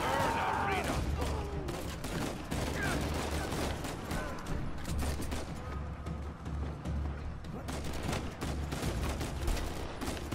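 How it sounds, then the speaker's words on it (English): Gunfire during a firefight in Uncharted 4: dense, rapid volleys of shots crackle continuously under excited talking and exclamations. "Just start shooting."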